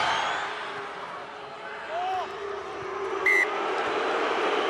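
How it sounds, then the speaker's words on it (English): A large rugby crowd at a Munster versus Saracens Champions Cup match groans and jeers at a penalty call, a broad, distant roar of disapproval rising under commentary, with whistles piercing through. "the crowd don't like that call"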